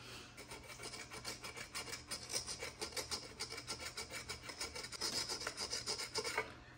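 A bowyer's edge scrapes along a sinew-backed bow glued with Titebond 3 in a steady run of rasping strokes, up close and continuous, with no talk.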